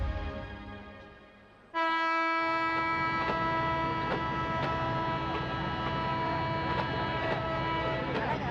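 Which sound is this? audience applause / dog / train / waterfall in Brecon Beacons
train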